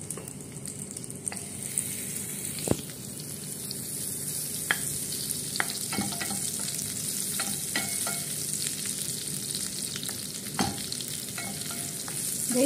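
Pancit canton noodles stir-fried in a pan just used for cooking shrimp, giving a steady soft sizzle broken by scattered clicks and scrapes of a utensil against the pan.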